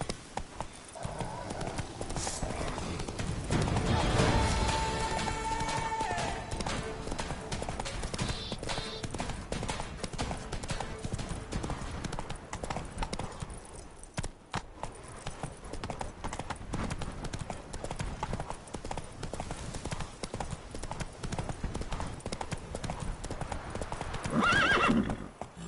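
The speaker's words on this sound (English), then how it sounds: "That's it, Roach" A horse gallops in The Witcher 3 video game, with steady rhythmic hoofbeats loud and close throughout, occasional whinnies, and a voice speaking briefly.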